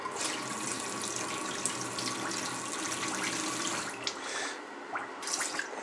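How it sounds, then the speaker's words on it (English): A kitchen tap runs water steadily into a sink, a close and continuous splashing hiss with no talk. "I'm going to run the tap for a moment"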